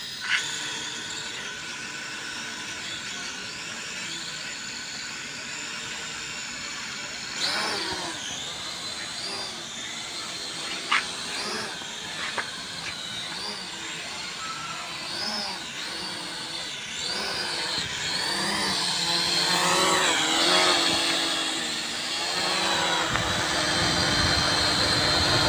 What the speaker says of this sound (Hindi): इस आरसी हेलीकॉप्टर जो है फ्लाई किया है,